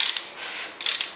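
A Chrysler 440 Mopar engine is turned over by hand during cam installation, moving the timing chain around its sprocket: brief close ratcheting clicks at the start and end, with a soft metallic whir between.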